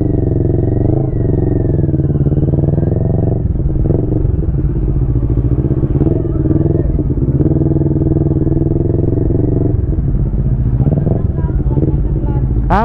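A motorcycle on a circuit track holds a loud, steady engine drone for the whole stretch, rising and falling slightly with the throttle and close to the microphone.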